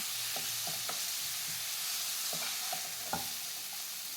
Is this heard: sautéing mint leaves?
yes